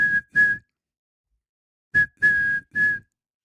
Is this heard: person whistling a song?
yes